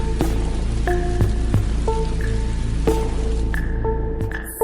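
Steady rain falls as a constant, fairly loud hiss, with soft, musical tones ringing out over it at intervals.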